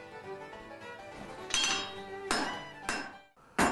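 Heavy hammer blows land on hot iron at a historic blacksmith forge, three or four loud metallic strikes spaced irregularly after a quieter opening.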